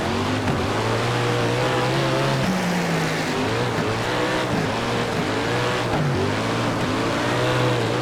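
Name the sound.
dirt race car engines in racing video game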